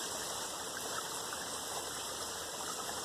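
A creek flows in a steady, full rush of water, close and continuous for the whole stretch, with no voices over it.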